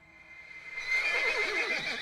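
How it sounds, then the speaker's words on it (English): A horse in a video game lets out a wavering neigh that swells and trembles for over a second, fairly faint and with no talking over it. "That horse noise is cracking me up."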